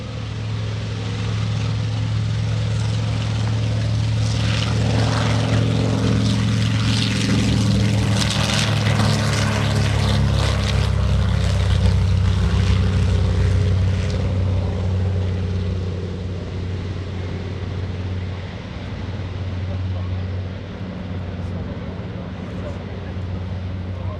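A Grumman TBM Avenger night-version propeller plane throttles up at the 2016 Greenwood Lake Airshow. Its engine gives a loud, continuous droning roar that swells and holds for many seconds before easing slightly.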